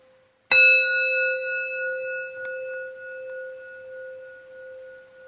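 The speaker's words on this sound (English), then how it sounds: "Despite sounding similar, each gong has a unique reverberation." A single gong strike rings out sharply, then sustains a long, clear resonant hum with several steady overtones that slowly fade over about five seconds, alone with no talk.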